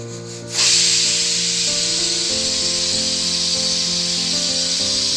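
Steam hisses loudly and continuously out of a pressure cooker after its whistle. A steady, broad spray sounds close by, with a faint tonal hum underneath throughout.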